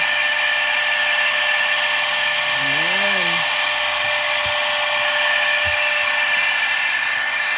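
A small electric vacuum pump draws air out of a resealable food bag, a loud steady high-pitched whine running throughout, while a person talks over it briefly.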